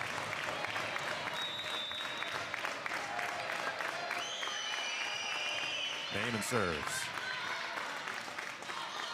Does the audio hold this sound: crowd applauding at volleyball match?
yes